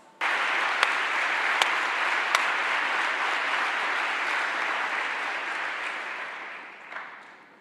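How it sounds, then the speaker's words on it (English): An audience at a talk applauds with sustained, even clapping that starts abruptly, stays full and close for several seconds, then slowly thins near the end. "So Vanessa, I hope you can tell from the length and the warmth of the applause that people agree with you."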